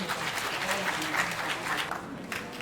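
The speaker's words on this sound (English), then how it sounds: "Please let's give her a resounding hand of applause." An audience at a graduation ceremony claps in sustained applause, steady and fairly close, starting to fade near the end.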